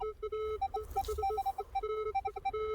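Minelab Equinox 800 metal detector sounding a coin target, short sharp beeping tones repeating in quick double-jump pairs, steady and clear with no talking over them.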